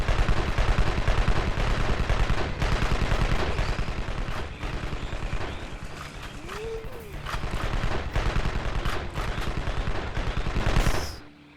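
Turrets in the video game Evil Genius fire on soldiers in rapid, repeated bursts of loud automatic gunfire, with brief pauses and a few interspersed game effects.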